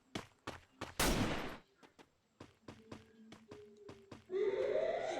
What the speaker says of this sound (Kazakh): Уже атысып жатыр анда біреулер.